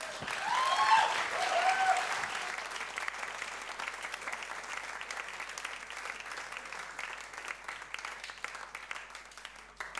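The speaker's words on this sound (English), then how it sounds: "give him a big, big, big hand of applause" An evening show audience applauds a performer named Werner, the clapping loudest at first and then thinning into a steady, looser patter of hands that continues to the end.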